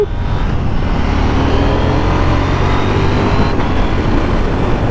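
A 2021 KTM 890 Duke R motorcycle being ridden, its engine a loud, steady rumble blended with wind noise that stays constant from start to finish.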